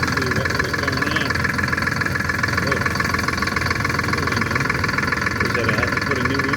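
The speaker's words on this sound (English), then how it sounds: "As I was doing my chicken chores, I had the tractor running" A farm tractor engine idles in a snowstorm, a steady, dense, continuous rumble with a faint rattling knock throughout and no pauses.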